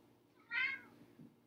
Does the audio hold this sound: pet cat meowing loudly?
yes